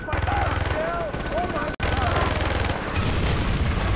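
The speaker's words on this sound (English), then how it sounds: "Oh, look at this explosion that just happened" A loud explosion in the video game Far Cry 3, a dense roaring boom with rumbling, crackling fire and a brief cut in the middle, heard in front of a tonal game sound.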